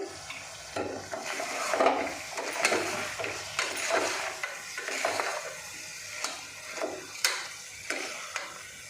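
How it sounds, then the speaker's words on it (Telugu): Food sizzles and fries steadily in a pan while a utensil stirs it in repeated scraping strokes, close and fairly loud, with no one talking. "చూడండి మంచిగా ఫ్రై అవుతుంది."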